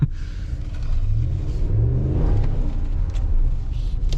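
A Ram 1500 pickup's 5.7 Hemi V8 engine revs hard and rumbles close by with wheelspin, the pitch rising and falling as the throttle opens, with no talking.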